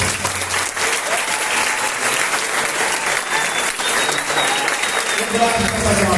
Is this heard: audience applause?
yes